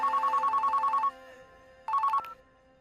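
A telephone bell rings in a rapid trilling burst, pauses, then rings again briefly, fairly clear with no one speaking.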